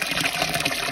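Flowing water at a river campsite in the Atlas mountains makes a brief, steady rushing and gurgling sound, close and fairly loud, with no voices.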